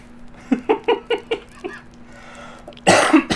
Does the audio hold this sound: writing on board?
no